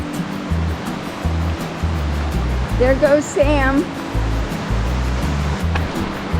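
Creek water rushes steadily through Crazy Woman Canyon, a loud continuous roar close by, with a person speaking briefly over it and a dog's short whine-like sound midway.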